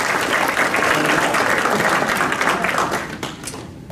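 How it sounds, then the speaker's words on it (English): An audience at a book signing and 1000th tour celebration bursts into loud, close applause. The thick clapping holds steady, then tapers off toward the end. "let's have some applause for that"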